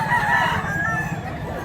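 A white-legged bulik gamecock crows close by in one sustained, strained call over a low background rumble.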